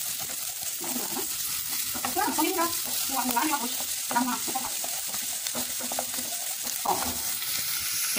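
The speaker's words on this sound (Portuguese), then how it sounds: "Alho, cebola, vou dar uma leve dourada." Garlic and onion sauté in a hot pan until lightly golden, giving a steady sizzle with scraping stirs while a voice speaks briefly over it.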